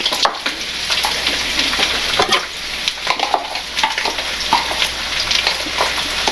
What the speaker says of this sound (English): we're going to put in some onions